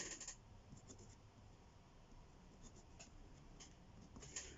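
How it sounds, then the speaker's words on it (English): A pen scratches across a journal's front cover while writing a date and signature, producing quiet, close scratchy strokes with short taps and pauses, steady throughout and with no talking. "I've just put the date and I've signed the front cover"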